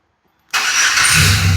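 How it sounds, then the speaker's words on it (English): After a key turn, a truck engine fires up abruptly out of silence and settles straight into a loud, rough running roar close by. "Turn the key on."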